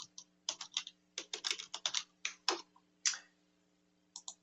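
Rapid, close keystrokes on a computer keyboard enter an opposing team's name, forming a busy cluster of crisp clicks that trails off into a few final taps, with a faint steady hum beneath.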